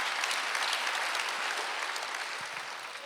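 Dense, steady applause from a congregation during a Sunday church service, a continuous wash of clapping that fades slightly toward the end.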